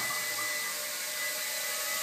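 A Walkera QR Scorpion Y6 hexacopter drone with coaxial counter-rotating props hovers low nearby, giving off a steady, even high-pitched whine and buzz.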